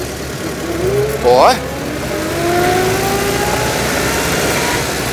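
A 1929 Dennis G-type fire engine runs close by, its engine rising and falling in pitch as gears are shifted, with a brief mechanical rasp partway through. Someone talks over the engine noise.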